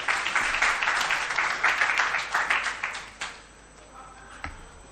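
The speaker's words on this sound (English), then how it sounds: "A round of applause again, ladies and gentlemen." An audience at a public political forum on a national budget gives a round of applause, dense, loud clapping for about three seconds that tapers off into a quiet room with a stray clap or two.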